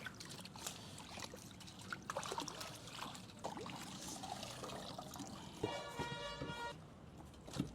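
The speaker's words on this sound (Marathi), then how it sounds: "मस्त धुवून घेऊ त्याला पहिले आपण स्वच्छ पाण्याने." A fresh whole fish of about 3.5 to 4 kilograms is rinsed under clean water before grilling, giving close, uneven trickling and splashing with a brief harder gush near the end.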